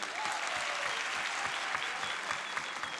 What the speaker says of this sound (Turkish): Dansçılarımıza bir büyük alkış lütfen.